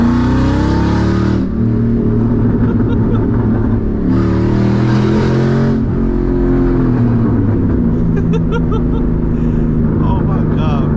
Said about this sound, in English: See a little downshift.